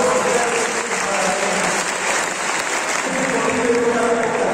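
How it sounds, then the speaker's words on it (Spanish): A graduation audience at a national technological institute breaks into sustained, dense applause, loud and even throughout, with faint voices beneath the clapping. "Un gran aplauso y un gran recordatorio para todos ustedes"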